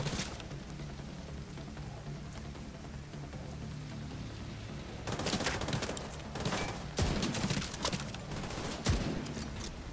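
Gunfire in The Division II, a steady rattle of rapid shots that grows denser and louder in the second half, with sharp bursts toward the end.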